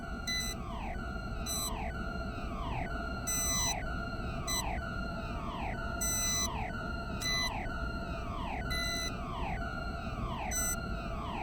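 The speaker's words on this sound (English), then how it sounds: "So if we're hearing beeping, we don't want to go down here." Radiation hazard warning in a sci-fi video game, a repeating electronic beep with downward-sweeping chirps, sounding roughly once a second throughout at steady volume over a constant low background drone.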